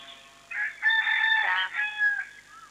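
A rooster crows once in a long, drawn-out call rising and falling over a couple of seconds, moderately distant, with no talking.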